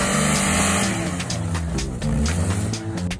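Quad bike engine labouring up a steep, rough slope of around 40 degrees, a steady loud motor drone with low harmonics and shifting revs throughout.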